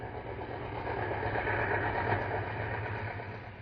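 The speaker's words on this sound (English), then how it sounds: "Santa Fe's train number 23, the Grand Canyon, is now leaving Dearborn Station on its way to Los Angeles" A Santa Fe diesel passenger train, number 23 the Grand Canyon, pulls out of Dearborn Station, a steady low engine rumble and rolling drone from a distance that swells slightly and then eases, with no voices.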